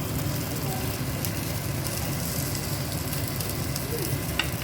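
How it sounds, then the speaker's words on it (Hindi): Mori shark fish frying in a pan, a steady close sizzle and crackle of hot oil continuing evenly throughout, with faint background activity. "तो बाकी जो फिश मैं फ्राई करती हूँ"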